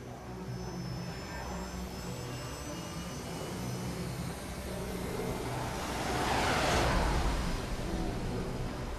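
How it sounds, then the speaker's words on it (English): Airplane engine in the video game Metal Gear Rising: Revengeance, a steady jet-like roar that swells to a louder pass about two-thirds through before easing slightly. "That's a sexy airplane."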